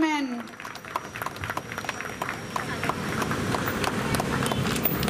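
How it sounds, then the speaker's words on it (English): An indoor audience at a Women's Day felicitation ceremony in Vasco claps steadily in dense, sustained applause that builds after a short speaking voice at the start and fills the rest of the clip. "Can I have a louder applause"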